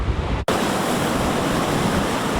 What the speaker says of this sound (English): As waves crash into the seawall at low tide in North Wildwood